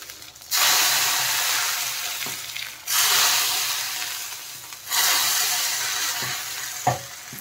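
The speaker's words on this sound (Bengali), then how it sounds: "দেখেন খিচুড়িতে ঢেলে দিচ্ছি" Hot fried tempering poured into a pot of vegetarian Gobindobhog rice khichdi and stirred in, giving three loud bursts of sizzling hiss that each fade slowly, followed by a few knocks of the stirring spoon, close up.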